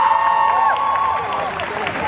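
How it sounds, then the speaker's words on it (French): Crowd applauding and cheering a cosplayer at a convention stage contest, loud and lively, with tonal whoops and voices mixed into the clapping. "je vous demande de l'applaudir Anchela."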